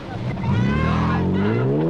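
A yellow Mercedes car engine revs hard and climbs in pitch as it accelerates, loud and close, with a voice over it.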